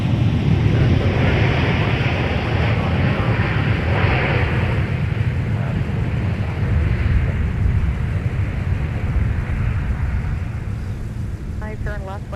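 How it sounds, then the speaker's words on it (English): A Delta Airbus A321 arriving at Minneapolis airport after a flight from Fort Lauderdale, heard as a steady, loud, broad jet roar that holds for the whole stretch, with faint radio chatter near the end. "This arrival in from Fort Lauderdale, Delta 1945, with an Airbus A321 in charge."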